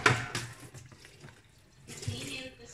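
Water runs from a kitchen tap while dishes are rinsed, a steady splashing flow with clinks and surges, close and fairly loud.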